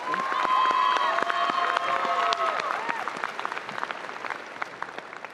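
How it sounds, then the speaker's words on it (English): A graduation audience at The Colony High School's 2023 ceremony applauds the counselors: a sustained, dense round of clapping with some cheering, steady at first and thinning slightly toward the end. "Let's give all of our counselors a round of applause."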